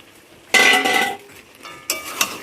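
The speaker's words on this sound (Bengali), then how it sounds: "তো এই যে এখন পকোড়াগুলো দিয়ে দিচ্ছি।" Fried chicken pakoras go into a pan of chilli chicken sauce with a loud clattering scrape of utensil against metal, then a quieter pause and a second burst of stirring and clinking.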